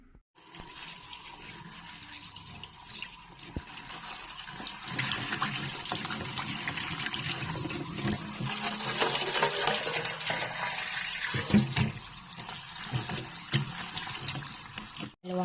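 Water is poured into a pot to boil avocado leaves, a steady splashing trickle that builds and thickens over several seconds before tapering off.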